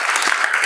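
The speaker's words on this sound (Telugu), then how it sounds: "వారి కోసం మనం అందరం కూడా ఒక్కసారి క్లాప్స్ కొట్టాలి." Audience applause at a Vinayaka Chavithi gathering, a short dense burst of many hands clapping together, steady and fairly loud throughout.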